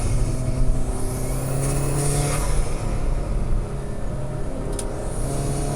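Steady engine drone from an Alfa Romeo 4C Spider under a conservative downshift on the move, loud and continuous with no voices.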